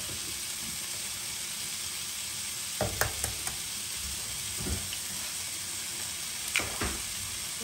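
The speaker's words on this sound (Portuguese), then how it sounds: "O bacon já vai soltar um pouco de gordurinha" Bacon fries in a drizzle of olive oil, giving a continuous close sizzle with occasional sharp pops and spatters.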